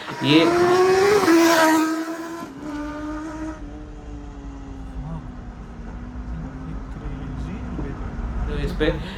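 Kawasaki ZX10R motorcycle on a 400 m run: a loud engine revs and climbs in pitch for about two seconds, then settles into a steadier, quieter drone that holds to the end.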